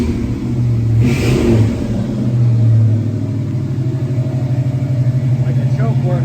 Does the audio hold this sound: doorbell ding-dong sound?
no